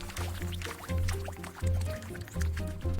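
A ball dropped into water makes gurgling, sloshing splashes in a few repeated pulses, close and moderately loud, with a voice faintly present underneath.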